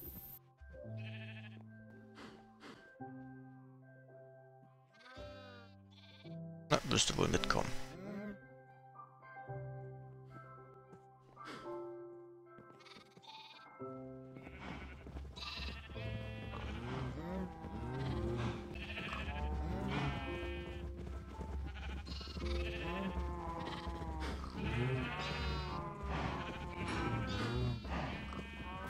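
Sheep bleats from the game Agrarian Skies sound a few times amid melodic background music, with someone speaking briefly partway through.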